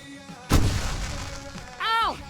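Fireworks in the video game Alan Wake Remastered go off with a single loud, broadband burst and a lingering rumble, followed by a rising-then-falling tonal whistle, with faint talk in the background.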